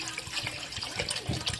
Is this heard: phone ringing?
no